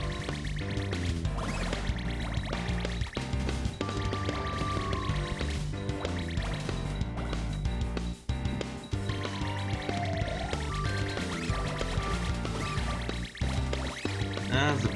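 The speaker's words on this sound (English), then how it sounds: "The bubbling might not be the best weapon for this" Bubbling weapon fire from the Bubbler in the game Cave Story+, its watery gurgling pops mixed into a dense, loud music soundtrack that runs throughout.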